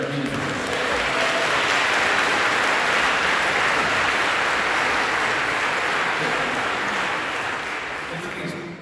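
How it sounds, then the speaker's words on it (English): Loud, sustained applause from a large concert crowd at an evening at the Union Chapel, London, a dense wash of clapping that holds steady for several seconds before easing slightly at the end. "Given these lovely people out here applauding"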